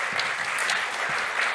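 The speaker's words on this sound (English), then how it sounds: "Round of applause for Natalie, I think." A conference audience applauds at a data summit in a hall, steady crowded clapping that continues without a break through the short moment.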